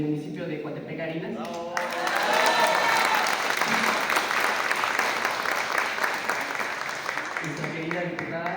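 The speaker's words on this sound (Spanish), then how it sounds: "Por favor, un fuerte aplauso." Applause from a crowd at a ceremony, swelling after a brief spoken introduction and holding steady as sustained clapping for several seconds before fading under a voice returning at the end.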